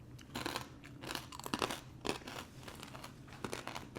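Crisp, crunchy bites of gluten-free air fryer dill pickle chips, some burnt, heard up close as a steady run of crackling chews and crunches with no talking.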